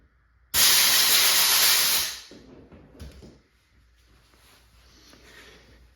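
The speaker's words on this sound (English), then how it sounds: "I have compressed air just hanging out over here" Compressed air blasting crud out of a gun part during maintenance on a less-lethal launcher, one loud close hiss of about a second and a half, tailing off into quiet handling noises.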